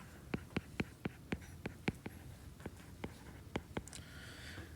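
Pen or pencil strokes on paper while jotting math notes about a right triangle, a quiet series of short, sharp taps and scratches in an uneven rhythm, close and otherwise silent.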